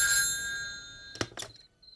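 A telephone rings inside a police station at night: a bright electronic ring tone fades over the first half, then a couple of sharp clattering knocks follow. No one speaks.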